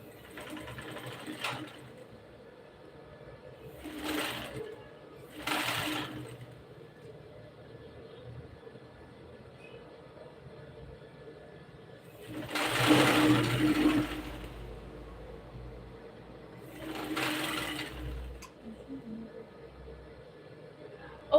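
An electric sewing machine stitches fabric in several short, faint bursts of whirring, with one longer run near the middle and quiet pauses between them.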